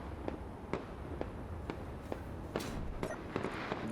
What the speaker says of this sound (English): I'm gonna have to put fireworks on the thing